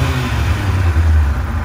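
A 2002 Kawasaki ZX6-R sport bike engine idles on its standard exhaust, a steady, fairly loud low hum close by with slight fluctuations in revs.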